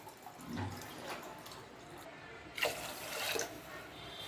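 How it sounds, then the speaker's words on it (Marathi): Water is poured with salt into rinsed rice in a cooking pot, a faint, soft trickle and splash with light clatter, heard up close in a quiet kitchen. "आता लागेल तेवढं पाणी टाकून घ्यायचं आणि मीठ टाकून घ्यायचं"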